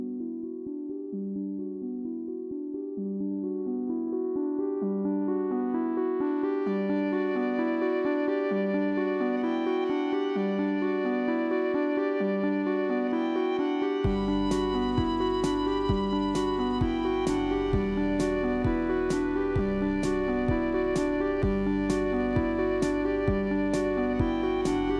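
Synth tones recorded on a Teenage Engineering OP-1 play back as a sustained, layered melody that builds in over the first seconds, then a pulsing bass and bright rhythmic ticks join.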